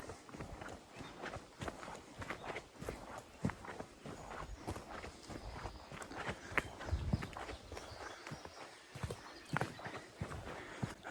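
Footsteps of a hiker walking back to a truck in Iowa's Driftless Region, a steady rhythmic crunch of paced steps on the ground, close and continuous, with rustling and breathing in between.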